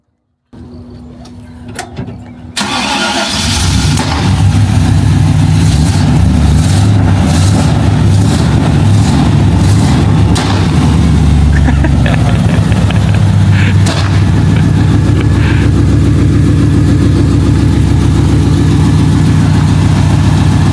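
A GMC 3500 pickup truck engine with straight pipe exhaust fires up after a brief pause, then settles into a loud, throaty idle that rumbles steadily close by.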